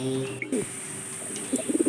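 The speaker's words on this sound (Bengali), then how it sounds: "কিছু পায়রা সেল পোস্টে দেখাচ্ছি" Pigeons kept for sale give soft, low cooing calls, a brief coo early on and then a run of repeated rhythmic coos near the end, close by over a steady background hum.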